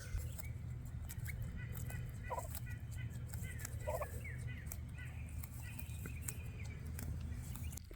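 Turkeys gobble in a couple of short, rattling bursts in a garden the day after a hailstorm, amid a steady low outdoor rumble and scattered clicks.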